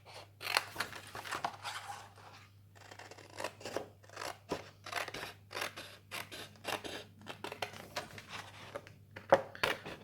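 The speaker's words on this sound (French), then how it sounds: "Je vais couper en biais ici, comme ça. Ici aussi, le long de mon pli." Scissors snipping a paper strip along a fold for a pop-up album page: a long run of close, crisp cutting strokes in steady rhythm, some quick and clustered, over a faint low hum, with no voice.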